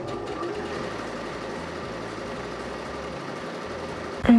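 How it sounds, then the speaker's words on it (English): An overlocker sewing machine runs steadily while finishing the bottom wrist edge of a sheer glass organza blouse sleeve, giving a continuous close mechanical whir with no talk, then a brief louder knock at the very end. "I'm overlocking the bottom edge of my sleeve, which is the wrist area"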